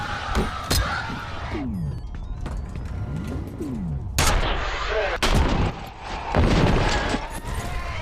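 An explosion bursts in Alan Wake 2 amid a dense, loud game soundscape: sharp blasts and booming impacts with sweeping tonal sounds over rumbling background noise.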